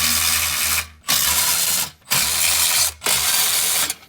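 A ratchet removes bolts from a metal panel on a GMC Canyon pickup truck, making loud, close, rapid clicking in four even bursts, each about a second long and split by brief silences.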